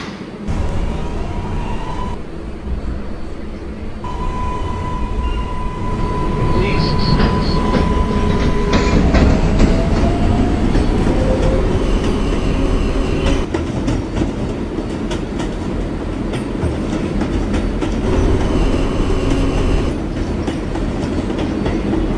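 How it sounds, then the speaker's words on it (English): R142A New York subway car on a Bronx-bound 4 train, steady rumble and clatter of wheels on track with rising motor whine as it gets underway, heard from inside, with faint chimes and a distant voice. "Bronx-bound 4 train."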